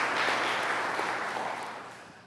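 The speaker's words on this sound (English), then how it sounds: "Let's give a round of applause to Thomas Frank" An audience applauds a panelist at a history discussion event, a dense burst of clapping that starts full and gradually tapers off toward the end.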